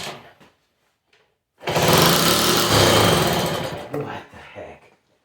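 A 1963 Honda Sport 50 C110 motorcycle's small single-cylinder engine, with a carburettor needing cleaning, sputters briefly, then catches and runs with a buzzy, high-revving rattle for about two seconds before dying unevenly.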